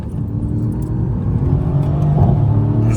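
A Mercedes C63 AMG accelerates at full throttle, its engine a loud, continuous low roar that builds steadily, heard close up throughout.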